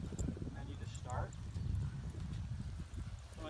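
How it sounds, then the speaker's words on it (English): Horses walk forward in a steady clip-clop of hooves, close and fairly loud, with voices talking faintly underneath throughout. "when the horses start walking forward"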